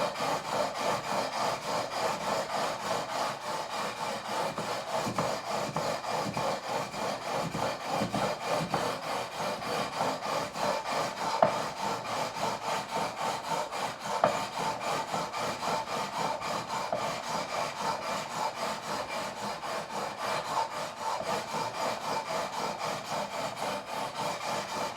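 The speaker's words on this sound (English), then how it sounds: "I'm going to turn over to the 400 grit because it's a lot smoother, and this will make it easier to remove the scratches" Frets on a Squier Classic Vibe Telecaster are sanded with 400 grit sandpaper during a fret level, a steady rhythmic back-and-forth rasp that continues close up throughout with no talking.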